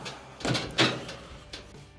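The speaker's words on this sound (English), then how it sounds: "We'll go ahead and close the door." A clothes dryer door swings shut with a dull thump, preceded by a softer knock and followed by a faint click, close by and without talking.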